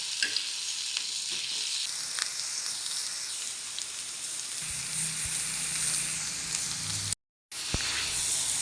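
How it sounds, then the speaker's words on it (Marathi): Onion frying in hot oil in a pan while masala for amti is roasted, a loud, dense, continuous sizzle with occasional stirring scrapes and a brief cut near the end. "तेल टाकलं, त्याच्यात कांदा टाकलाय"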